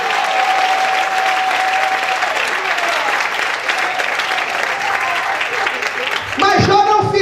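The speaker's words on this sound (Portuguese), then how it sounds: "aplaude o Senhor e dá glória a Deus nesse lugar" A church congregation claps loudly and continuously, with a sustained sung or shouted tone in the first seconds and voices rising again near the end over the applause.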